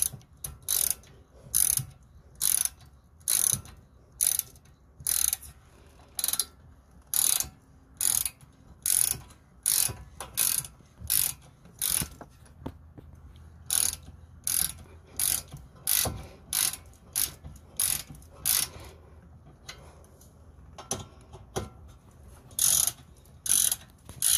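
A hand ratchet tightens bolts on the rear brakes of a 2016 Ford Fusion, making quick bursts of sharp metallic clicking in a steady rhythm with short pauses between strokes, close and clear.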